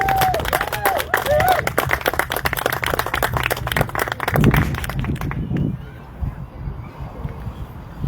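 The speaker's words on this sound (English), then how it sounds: "Big round of applause for Ralph" An outdoor crowd at a Glen Cove community association meeting in Vallejo, California claps for a speaker, brisk applause fading out after several seconds, with a few voices and birds audible.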